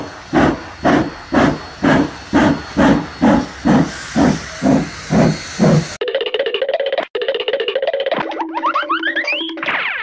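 A cartoon steam train puffs out rhythmic bursts of hissing steam, about a dozen even chuffs in a row, loud and close. The chuffing gives way to playful cartoon music with springy sliding sound effects.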